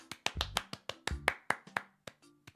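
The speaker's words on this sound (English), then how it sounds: "What if somebody did clap?" A handful of isolated hand claps or snaps, about a dozen sharp separate hits spaced irregularly over a couple of seconds, close and fairly loud, with no voices.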